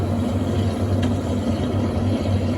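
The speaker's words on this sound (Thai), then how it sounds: "ตอนนี้ก็เริ่มปั่นแห้งแล้วนะครับ" An inverter washing machine with a repaired wash shaft spin-dries with a steady low droning hum and rumble, constant and fairly loud, no talking.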